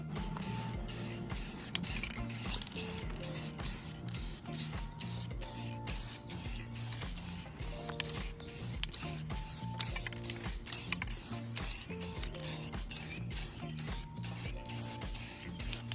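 A thick coat sprayed onto a carbon fiber car trunk in rapid repeated bursts, a constant close hiss broken by short pauses and mechanical clicks throughout.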